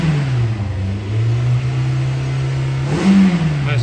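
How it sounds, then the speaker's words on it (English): The 1.8 liter engine of a 2016 Toyota Corolla hums at a steady, loud idle close by, then briefly revs up near the end before settling back. "Nice throttle response."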